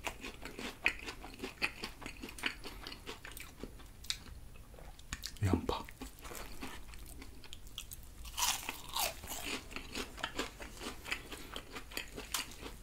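Crisp, close crunching and chewing of a Burger King peanut butter burger with fried onions, bites landing in irregular bursts with a brief quiet pause midway, soft mouth sounds between.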